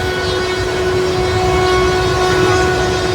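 A train rolling out of a tunnel bored through a hill in dense forest, heard as a loud, steady rumble with a sustained horn-like tone running throughout, close and unbroken for a few seconds.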